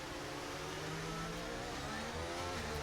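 McLaren Formula 1 cars racing in the F1 23 video game, a steady high-revving engine whine with layered harmonic tones, continuous and fairly quiet.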